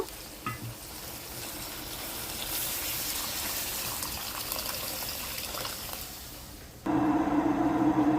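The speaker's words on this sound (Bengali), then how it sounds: "আরেকটু গরম পানি দিয়ে দিব।" Hot water is poured into a simmering beef tripe curry, a steady watery rush over bubbling that swells into a louder, harsher gush near the end.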